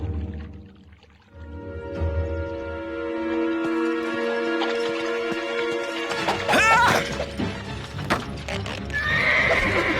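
Pegasus the winged horse gives a loud, ringing neigh that rises and holds, then hooves clatter and stamp close by in a quick burst with a crash-like thud, the neighing returning at the end.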